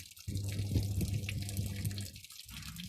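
Coolant draining from a truck radiator, heard as a close, steady splashing pour of liquid that stops briefly near the end and then resumes more faintly.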